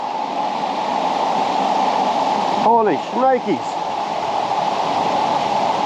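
A mountain creek in Renfrew County, Ontario runs in a steady, close broadband rush throughout, with a man's short exclamation breaking in over it briefly.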